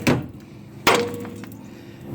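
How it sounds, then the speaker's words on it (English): Two sharp metallic hammer strikes on a steering ball joint of a 1987 Mercury Grand Marquis, the second hit heavier and ringing briefly, close and loud with quiet shop background between blows. "I'm just going to whack it with a hammer and hopefully it comes out"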